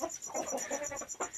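Laying hens of a country breed cluck close by in a steady run of short, soft calls, accompanied by a faint high background hum.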